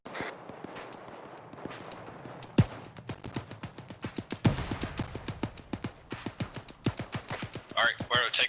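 Gunshots in a military video game, a steady run of sharp cracks, some single and some in quick clusters, fairly distant and moderate in level, with a few louder nearby reports; a voice talks over it.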